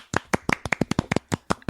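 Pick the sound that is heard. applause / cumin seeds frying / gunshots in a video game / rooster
applause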